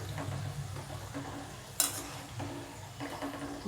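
Masala shankarpali frying in hot oil and being stirred steadily, a soft sizzle under light scraping and clinks of a spoon against the pan, with one sharp metallic tap partway through.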